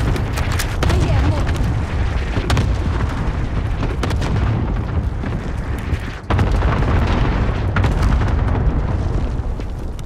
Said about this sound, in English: Marking target for airstrike. This is Q-0, good copy. Cluster strike away.